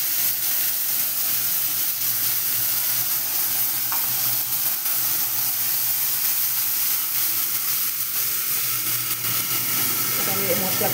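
Paste of garlic, onion, tomato and green chili fries in hot oil with cumin, giving a steady, close sizzle and hiss that runs without a break for the whole stretch, with faint stirring now and then.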